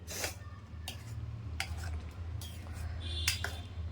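Butter and cashew paste being stirred into palak paneer in a pan, with a spoon clinking and scraping against the metal in several sharp taps over a steady low kitchen hum.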